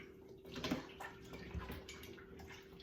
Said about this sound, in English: And I am going to add some water to it.